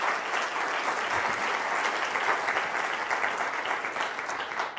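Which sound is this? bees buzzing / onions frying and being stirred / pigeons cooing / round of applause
round of applause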